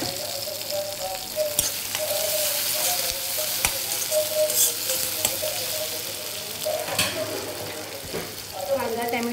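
Finely chopped tomato and onion frying in a pan for a spicy brinjal masala, a continuous close sizzle with intermittent clinks and scraping of stirring, plus a brief splash of water near the end.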